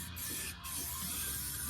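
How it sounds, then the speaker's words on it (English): Rust coating sprayed onto Ford Ranger truck differential parts, close aerosol hissing in two bursts with a short break between, loud and continuous with no voices. "we're gonna rust coat everything. So just got good lighting, and I'm just gonna spray literally everything down"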